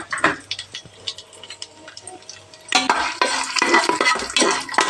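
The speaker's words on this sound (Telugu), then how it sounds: "ఆయిల్ కాగింది కదా ఇప్పుడు హోల్ గరం మసాలా మొత్తం వేస్తున్నారండి" Whole garam masala dropped into hot oil and ghee in a pressure cooker, starting with a few light clinks and stirs, then breaking into a loud, close, crackling sizzle that carries on to the end, no speech.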